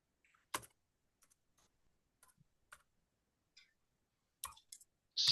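Isolated keystrokes tap on a computer keyboard in a quiet room, sparse and irregular, with a few louder clicks and short clusters near the end, close and fairly crisp.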